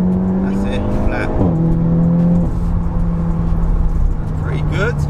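A Seat Leon Cupra 300 launches hard at full throttle with traction control off, engine note climbing loud and close through the gears with rising revs, a voice speaking over it near the start.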